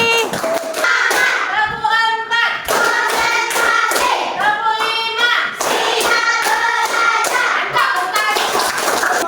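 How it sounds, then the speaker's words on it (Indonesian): Classroom children clap for a group, broadband bursts of hands mixed with loud excited kids' voices and shouting throughout, close and busy. "Oke, tepuk tangan untuk kelompok melati."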